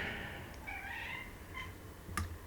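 A house cat meows quietly indoors beside a computer being upgraded: a few soft, drawn-out meows over faint room noise, followed by a brief click, with no talking.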